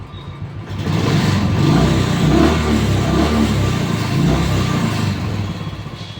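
A Royal Enfield Classic motorcycle engine is revved hard at full throttle after a spark plug change, a loud close-up roar that swells, holds steady for several seconds and then eases slightly.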